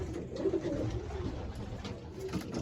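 Domestic pigeons in a loft, including a young bird, give soft low coos and murmurs, fairly close, over a steady background hum, with no talking.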